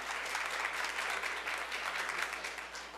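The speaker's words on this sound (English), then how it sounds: "Give them a round of applause." A crowd claps steadily, a dense patter of many hands that fades slightly toward the end.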